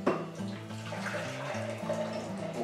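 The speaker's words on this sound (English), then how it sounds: "So that's 8 pints of boiling water gone in" Boiling water poured from a height into a fermenting bucket of blackcurrants for homemade wine, a steady continuous gushing that sounds close and fairly loud, running unbroken for a few seconds with a low tonal hum underneath.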